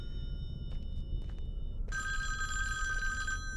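A telephone in the Friday the 13th video game rings with a bright electronic trill that starts partway through and holds steady, preceded by a few faint clicks over a low background rumble, with no voices.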